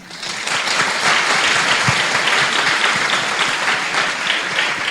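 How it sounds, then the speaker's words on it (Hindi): A church congregation at a December fasting prayer service claps together in a dense, steady, close round of applause that builds quickly and holds evenly. "चाहे अपने लिए ताली मारिए।"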